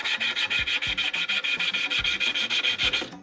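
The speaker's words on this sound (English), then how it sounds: "I can sand so much quicker than I did before" Hand sanding of a wooden stand-up bass body, quick rhythmic back-and-forth rasping strokes, close and steady, about seven strokes per second with periodic heavier thumps as the grip shifts, no talking.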